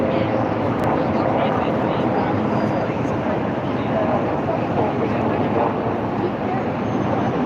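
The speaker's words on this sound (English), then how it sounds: "There's a helicopter. You can take a helicopter tour." A steady, broadband engine rumble fills the whole stretch, like a tour helicopter passing at moderate distance over Horseshoe Falls, Niagara Falls, Ontario, with no voices over it.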